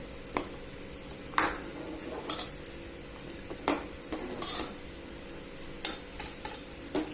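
Pakoras go into a pot of simmering kadhi, heard as scattered clinks and scrapes of a spoon against metal over a steady low hiss of cooking, with no one talking.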